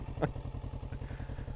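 A 2024 Kawasaki Vulcan S 650 cruiser motorcycle rides along with a rhythmic low engine pulse and a brief clatter near the start, heard close and steady.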